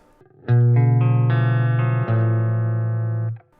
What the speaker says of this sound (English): See what the boost does.